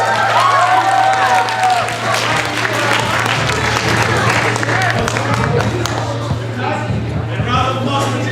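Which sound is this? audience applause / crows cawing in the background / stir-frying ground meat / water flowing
audience applause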